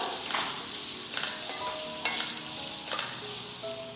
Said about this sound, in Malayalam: നാരങ്ങ ചേർത്ത് കൊടുത്ത് ഇതുപോലെ ഒന്ന് ഇളക്കി കൊടുക്കാം.